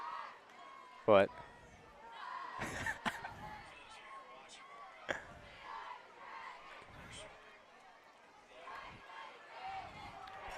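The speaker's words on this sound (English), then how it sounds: "I'm sure y'all can hear the spirit crowd" A high school spirit crowd at a varsity football game between Ste. Gen and Fredericktown roars and chants in the background, a steady wash of distant voices under close commentary talk, broken by a few sharp thumps and bangs.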